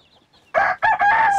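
Young Sultan breed chickens, black, splash and white varieties, give a loud close burst of two or three crowing, clucking calls after a near-silent moment.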